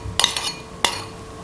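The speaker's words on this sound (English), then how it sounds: "And then stir thoroughly so the seasoning gets on the rice really well." A spoon clinks and scrapes against a bowl while seasoning is stirred into cooked sushi rice, giving a few close, bright knocks over about a second.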